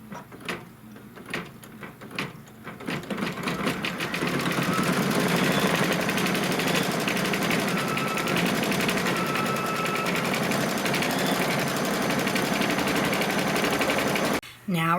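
Embroidery sewing machine stitching a tack-down line on brown quilt fabric, a steady rapid mechanical whir of stitching that builds up after a few seconds and runs evenly, then stops abruptly near the end, with a voice speaking at the start.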